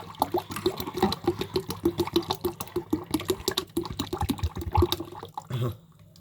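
Orange carrot juice pours in a steady, gurgling stream for several seconds, then trickles off and stops.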